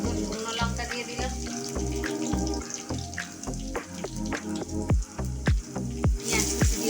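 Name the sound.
dried red chillies sizzling in hot oil with black cumin and garlic paste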